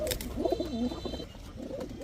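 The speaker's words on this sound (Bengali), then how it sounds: "দেখেন কি ছটফটে কবুতর এদিকে না এদিকে যাও দেখেন খুব ছটফটে" Pigeons coo close by in soft, throaty, warbling calls, with a brief pause before another round of cooing.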